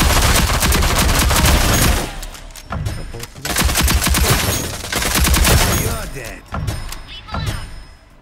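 Rapid bursts of gunfire from the shooter game Rogue Company on PlayStation 5, loud and dense fusillades with machine-gun runs, pausing briefly twice before resuming; talk is faintly mixed underneath.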